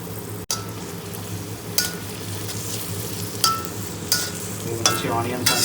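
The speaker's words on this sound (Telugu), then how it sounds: "మంచి ఆనియన్స్ అని గోల్డెన్ బ్రౌన్ కలర్ వచ్చే వరకు ఫ్రై చేసుకోవాలి." Onions and green chillies sizzle steadily in hot oil for chicken fry biryani, with a few sharp spatula scrapes and clinks against the pan breaking through the continuous frying hiss. No one speaks.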